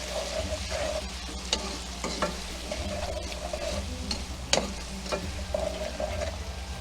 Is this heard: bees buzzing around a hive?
no